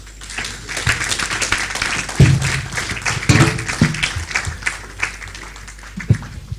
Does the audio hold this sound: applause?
yes